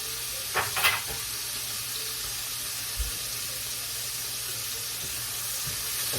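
Bacon sizzling steadily in a hot pan before Brussels sprouts go in, a dense continuous hiss close by with a few faint clinks of a utensil.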